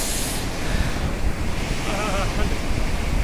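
Strong cold wind gusting beside an icy river at Noori Chamb, a loud broad roar that buffets the microphone continuously, with rushing water blended underneath.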